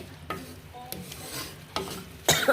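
Shrimp sauté with garlic and onion in a pan, with soft scraping stir strokes over a faint, low sizzle, each stroke brief and close.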